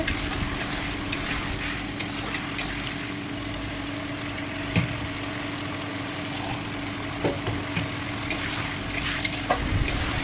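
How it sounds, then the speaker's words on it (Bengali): Spice paste frying with potatoes for a rohu fish curry makes a steady low sizzle, broken by intermittent sharp clicks and taps of stirring against the pan, with a low hum underneath and no talk. "মশলা ভালো করে কি সুন্দর দেখো কষাচ্ছে"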